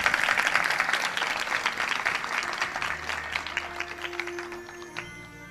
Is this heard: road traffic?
no